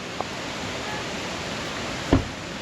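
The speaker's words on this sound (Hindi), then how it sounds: "ये देखो सामने, ये 5 झरने एक साथ" Five mountain waterfalls rush together near a glacier in the high valley below Sach Pass, a steady broadband hiss of distant falling water, constant and unbroken, with a brief knock near the end.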